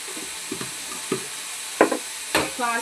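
A spoon stirs salted tomato curry in a pan, giving a few scattered scraping and clinking strokes over a faint sizzle, close by and fairly quiet.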